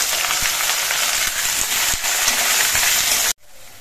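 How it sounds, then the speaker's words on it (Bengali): Potatoes frying in hot oil give a loud, dense, continuous sizzle with faint stirring knocks, then cut off abruptly near the end to a quieter background. "আলুগুলো আমি বেশ কিছুক্ষণ ভেজে নিয়েছি"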